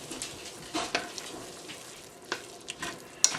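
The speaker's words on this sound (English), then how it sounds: "I've cranked the heat up a bit just to try and get this to simmer a bit more." Ramen soup broth simmering on high heat, a soft bubbling hiss with scattered pops and small splashes, fairly quiet and close, no talking.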